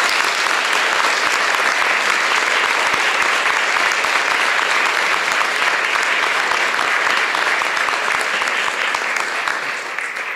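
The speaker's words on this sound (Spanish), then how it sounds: "me atrevo a pedirles un aplauso para él, por favor" A hall audience at a formal ceremonial city council session gives loud, sustained applause, many hands clapping densely and steadily throughout, with no speech on top.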